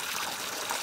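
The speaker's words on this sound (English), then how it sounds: "I'm going to go turn off the water now." Water runs from a hose into a giant water balloon, making a quiet, steady trickling gush with no pauses.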